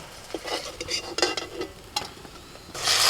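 Long slices of brinjal frying in oil on a clay stove, a soft sizzle with a few utensil clinks and scrapes, then a louder burst of hissing at the end.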